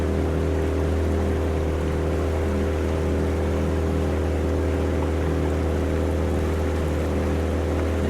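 A small fishing boat motoring across high tide, its engine giving a steady, close, low droning hum with a broad wash of water and wind running continuously, no voices.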